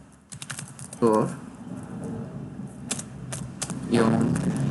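Password being typed on a computer keyboard, rapid close key clicks in a steady run with a few louder taps, a voice speaking briefly over the keystrokes.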